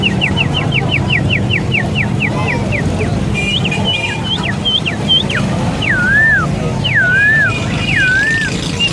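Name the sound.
man imitating a canary's song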